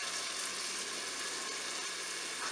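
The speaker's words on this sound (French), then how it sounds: "mon huile est déjà chaude, donc je vais mettre mes oignons dans la cuve" Onions hit hot oil in a Cookeo electric pot and fry with a loud, dense, unbroken sizzle that fills the whole stretch, close up with no voices.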